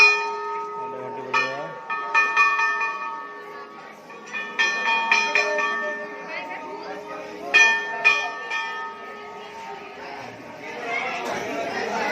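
A large temple bell at the Ramachandi shrine rings out in repeated bright, sustained strikes with long ringing tones, while people chatter in the background throughout.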